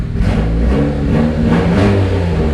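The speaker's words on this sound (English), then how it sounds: "When I rev it up, it looks like it goes super rich" A turbocharged Honda engine revs steadily with a loud, continuous mid-range engine roar that holds without pause and no voices.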